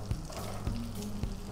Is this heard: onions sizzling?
yes